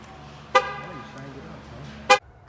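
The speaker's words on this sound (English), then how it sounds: "I gotta lock this car" A car horn chirps twice as the car is locked, two short sharp honks about a second and a half apart, with faint engine or background hum between them.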